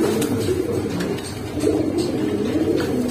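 Pangkhi pigeons, high-quality fancy breed kept with Giribaz birds, coo in a steady low murmur that runs continuously and fairly close, with no talk.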